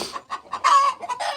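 A chicken clucks close by in a quick run of short, throaty clucks with one drawn-out, higher cluck in the middle.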